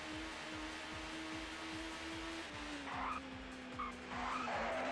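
A touring car in the ToCA racing game spins out, its tires squealing in a long skid over a steady engine drone, with brief bursts of harsher scrubbing noise near the end; no voices.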